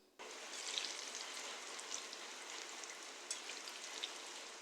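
Jackfruit seeds coated in maida, fried in a pan on medium heat with garlic and ginger, give a steady, even sizzle that runs throughout with no talk.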